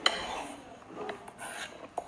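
A spoon or whisk stirs flour and baking powder into vanilla cupcake batter in a bowl, giving a short run of soft scraping and light clinks against the bowl, close and quiet, with no voice.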